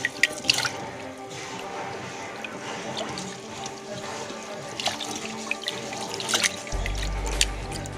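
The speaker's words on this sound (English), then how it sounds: "Thoroughly wash the rice." Four cups of basmati rice being washed in water, with soft sloshing, swirling and dripping close by at a low level, plus occasional splashes and a brief low rumble at the end.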